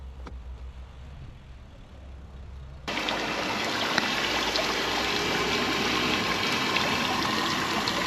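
Running water from a village water fountain beside a church on a mountain cycling route, a steady trickling, splashing flow that grows louder and fuller partway through and continues up close.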